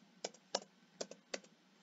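Typing on a computer keyboard, with four or five light, close keystroke clicks in an uneven rhythm, quiet and alone.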